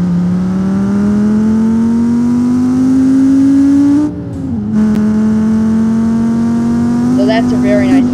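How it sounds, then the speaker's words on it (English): Five-cylinder engine of the Cherrier Vivace in BeamNG.drive revving up steadily, a loud humming drone rising in pitch, dipping briefly around a gear change, then climbing again. "So that's a very nice engine sound if you ask me. It's a 5-cylinder engine."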